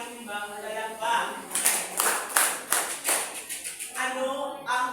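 A classroom group claps in a short burst of quick, close hand claps that swell and then thin out, with faint voices in the background.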